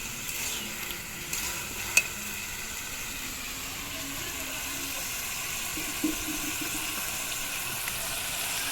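Chicken bhuna stirred in a pan as it fries in released oil with coriander leaves, giving a steady sizzle and hiss with occasional soft scrapes and knocks of the spoon, close and continuous.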